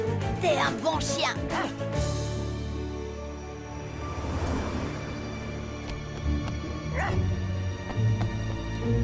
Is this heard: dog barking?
yes